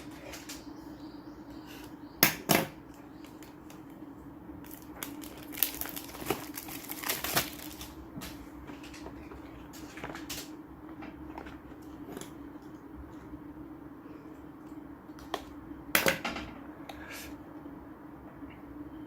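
Packaging of a DJI Osmo Action camera being opened: sharp crinkles and tearing bursts near 2.5, 7 and 16 seconds over a steady low room hum, with quieter rustling between.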